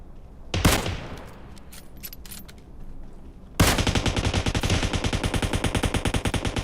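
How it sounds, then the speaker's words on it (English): Automatic gunfire in the mobile battle royale game PUBG Mobile: an early single loud shot and scattered faint shots, then a sustained rapid burst of close, loud automatic fire with no talk. "We got automatic fire"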